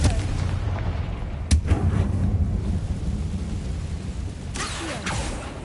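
Confringo blasting spell in Hogwarts Legacy, with a sharp explosive crack early on and a second rumbling burst later over a constant low ambient drone.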